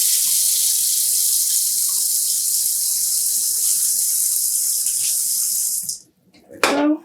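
Tap water pours steadily from a faucet to rinse a dye container, a loud broadband rush for about six seconds that cuts off abruptly, followed by a brief splash or clatter.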